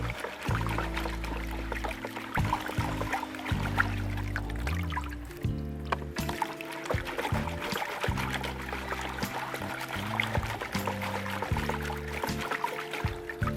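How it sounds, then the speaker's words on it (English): Carrots from patio pots are washed in a bucket of water, with soft trickling, splashing and sloshing close by and steady throughout. "that's our carrot washing bucket"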